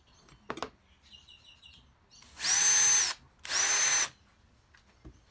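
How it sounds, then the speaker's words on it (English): A few soft taps and clicks, then two loud bursts of a power drill whirring for about a second each, drilling hinge mounting holes in cabinet doors, separated by a short pause. "And drill the mounting holes."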